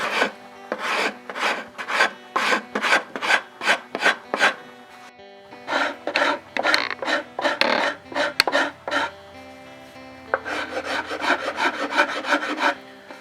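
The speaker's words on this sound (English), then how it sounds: "Make sure that you have your rasp orientated so that you're cutting with the grain. These cut mostly on the push stroke." A wood rasp filing an arch into a wooden workpiece by hand, cutting with the grain: rhythmic, rough push strokes repeat in quick bursts with brief pauses, close and clear, with no talking.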